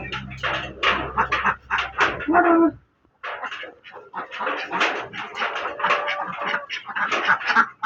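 A dog on a duck farm panting loudly and close in rapid breathy bursts, with a short pause partway through before the panting resumes.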